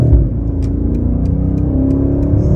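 A 2023 BMW 760i sedan accelerates under throttle, its engine droning in a steady, rising hum with a smooth low rumble and faint periodic ticks, loud and close from inside the cabin with no talk.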